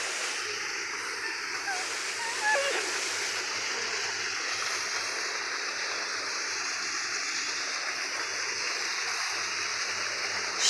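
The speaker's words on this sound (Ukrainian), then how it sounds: "І тут побачили ось такий водоспад" A waterfall roars in a steady broadband rush, with a brief faint chirp early on and no talk.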